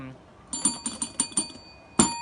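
Small bell rung close by in a quick series of about six bright, metallic dings, a short pause, then one more strike, with faint talk underneath.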